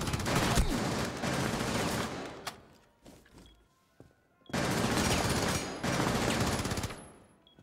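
Loud sustained automatic gunfire from a P90 submachine gun in the video game Rainbow Six, in two long bursts separated by a few seconds of quieter scattered sounds, with no speech.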